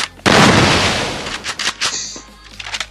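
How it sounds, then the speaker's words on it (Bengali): Desert Eagle headshot in a multiplayer shooter game: a loud, sharp gunshot blast that rings out and decays over about a second, followed by scattered quieter in-game sounds. "ডেজার্ট ইগলের হেডশট আমরা দেখতে পেলাম"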